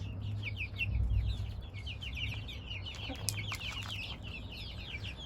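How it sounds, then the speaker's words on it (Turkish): Gurk chickens, including a rooster, cluck and chatter continuously at a moderate distance, with a low steady hum underneath. "Evet, bu kesin horoz."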